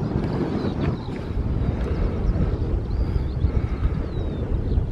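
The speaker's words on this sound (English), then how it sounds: "Hope the wind's not affecting the video too much." Wind buffets the microphone outdoors beside a 17th-century windmill, a steady broadband rumble that stays loud and continuous throughout, with a faint high whine drifting above it.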